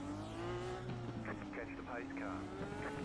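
An IndyCar racing engine in the iRacing video game drones steadily at moderate pitch while following the safety car during a rolling start, with faint tire and mechanical noise under it and no talk.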